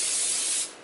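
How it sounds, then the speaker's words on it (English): Nonstick cooking spray hisses in one steady, close burst into a 9x12 casserole dish, then cuts off abruptly. "I'm going to spray this with just some nonstick cooking spray"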